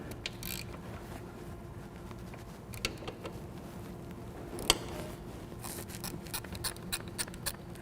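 A wrench breaks loose the oil drain plugs on an Indian Scout motorcycle. It gives soft, close mechanical clicks and ratcheting patter, with one sharper click midway and a few more quick clicks toward the end.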